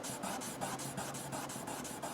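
Guitar frets on a Richie Sambora Standard Strat rubbed with 800 grit wet sandpaper, a soft rhythmic rasping stroke repeating about every quarter second, close and quiet with no voices.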